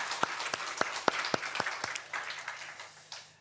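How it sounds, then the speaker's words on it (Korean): A church congregation at a Korean Thanksgiving Sunday service gives a short round of applause: a few sharp, distinct claps ring out at first, then thinning scattered clapping fades away quickly, heard from some distance. "우리 다시 한번 하나님께 영광의 박수 올려드리겠습니다"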